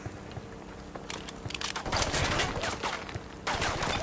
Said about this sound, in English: Taking fire from the warehouse